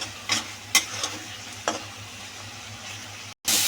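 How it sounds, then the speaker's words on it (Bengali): Pointed gourd frying with turmeric, cumin, coriander and chili powders, a close steady sizzle broken by a few sharp stirring scrapes, a brief dropout, then the loud frying returns; no talking. "পটল ভাজা হয়ে যাচ্ছে"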